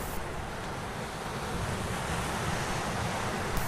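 Ocean waves breaking in a cove, a continuous loud rushing surf with wind noise across the microphone.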